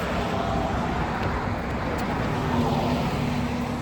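Loud, steady road traffic roars continuously with no breaks, a dense wash of passing cars and heavier vehicles close by, without any voices.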